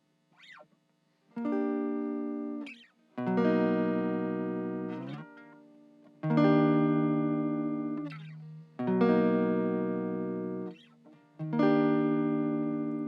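A Fender Stratocaster with a treble bleed circuit strikes several sustained chords one after another with its tone knob turned, each left to ring and fade, with short quiet gaps and faint string noise between them.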